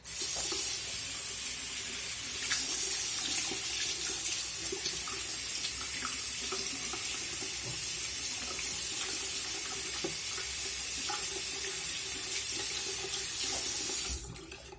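Tap water runs steadily into a sink while makeup brushes are rinsed, a continuous hissing splash with small fluctuations, close and fairly loud, stopping abruptly at the end.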